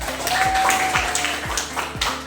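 Schoolchildren in a classroom chemistry lesson clap together in a steady rhythmic pattern, with sharp group claps landing about twice a second, fairly close and lively.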